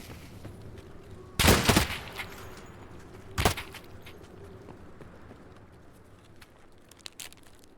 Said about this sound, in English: Fucking sniper scout was hitting us